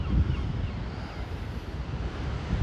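Strong wind buffets the microphone on a wide sandy seashore at Narva-Jõesuu in Estonia. The roar is continuous, low and loud, and it masks any surf.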